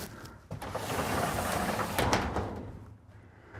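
The sliding bathroom door of a 2024 Winnebago Vita 24P RV is pushed in and slid along its track, giving a close, steady rolling scrape that lasts about three seconds and tapers off at the end.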